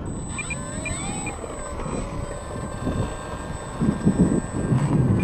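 An E-flite P-39 radio-controlled model airplane on a 3S 3000mAh battery takes off on its maiden flight, its electric motor whining and shifting pitch as it moves away, over wind noise and a steady high tone.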